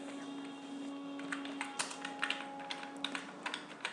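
Fingers type steadily on a computer keyboard, a close run of light, irregular key taps over a faint constant hum.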